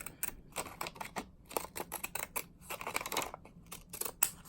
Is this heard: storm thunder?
no